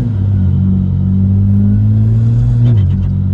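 A 500 hp rear-wheel-drive diesel car with a ball-bearing turbo, heard as a loud, steady, close engine drone that shifts pitch near the end with a brief rising whine.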